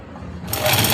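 An electric sewing machine stitches fabric for an Afghani salwar. A low mechanical whir starts up and grows to a loud, rapid, steady run within a second, with no talking.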